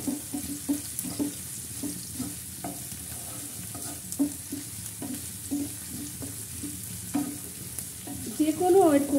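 Garlic, onion and dried chili fry in a pan with a steady sizzle, punctuated by repeated stirring scrapes at a regular pace, close up and alone, with a brief clatter near the end.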